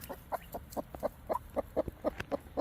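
Wyandotte chickens by their coop give a rhythmic run of short, soft clucks, about a dozen evenly spaced notes, close and fairly quiet with no talk over them.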